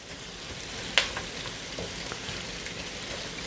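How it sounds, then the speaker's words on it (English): Onions sauté in oil and butter with a soft, low sizzle throughout, broken by one sharp clink of a utensil near the start, with no talking. "get the oil and butter all over the onions. So stir it real good to get them coated"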